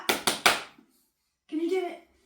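A baby girl claps her hands three times in quick succession, soft and close, followed after a short pause by a brief voice.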